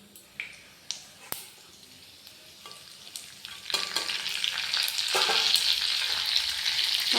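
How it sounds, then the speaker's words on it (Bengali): Panch phoron five-spice seeds hit hot oil in a wok, starting with a few sharp pops and crackles, then swelling into a steady, loud sizzle that builds toward the end. "দেখুন তেলটা গরম হয়ে গেছে, এবার আমি দিয়ে নেব 5 ফোড়ন।"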